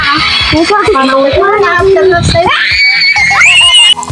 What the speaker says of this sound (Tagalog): kaya pala sila sumigaw dito guys ay natakot sila sa caterpillar na binigay ko sa kanila kanina